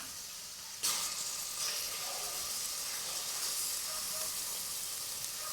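Ground masala gravy hits a hot pot for kuska biryani, bursting into a loud hiss that settles into steady, dense sizzling and spattering, close up with no talk.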